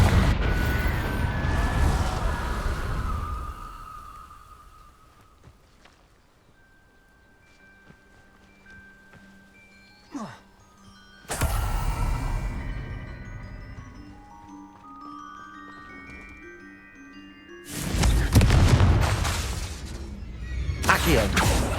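Confringo fire spells from Hogwarts Legacy burst in a few loud blasts separated by quieter stretches, with shattering debris and ringing magical tones trailing away between impacts.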